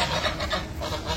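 A small flock of village ducks honks and quacks close by, with several overlapping nasal calls in quick bursts, no voices.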